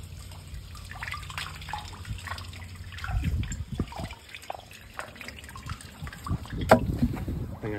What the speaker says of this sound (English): I got some bleach. You know, I've had this thing out on the ground and have my hands all over it, so I'm gonna dump some of that down the well.